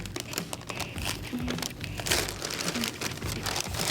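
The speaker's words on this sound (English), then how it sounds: "So here, we're opening up the sticker here." Someone peels open the seal sticker on a sneaker box, making close, busy crinkling and tearing of paper in irregular bursts.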